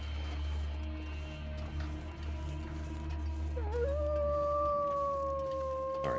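A wolf in The Long Dark howls in a long, rising then steady tone that sits above a constant low ambient hum and wind, lasting through the back half.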